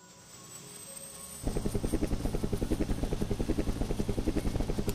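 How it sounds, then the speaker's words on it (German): A helicopter in the retro video game Captain Gysi in Galaxis Futura starts up after a quiet hum, then chops on with a loud, rapid, even rotor pulse. "Ein Hubschrauber."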